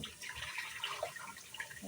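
Tap water runs steadily into a kitchen sink while something is washed by hand during Nilagang Baka cooking, a continuous faint hiss with small splashy variations throughout.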